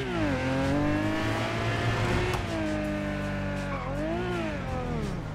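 A Porsche in GTA 5 drives hard, its engine droning loudly with steady rising pitch, shifting gears and revving again, with a brief tire squeal in the middle.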